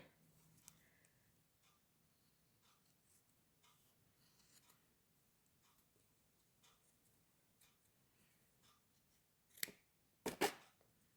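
Scissors cut out traced pattern pieces for beaded earrings, with faint scattered snips and rustles followed near the end by a few louder, close cuts.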